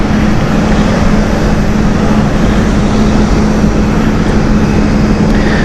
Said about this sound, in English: Delta taxiing to the gate from Seattle here.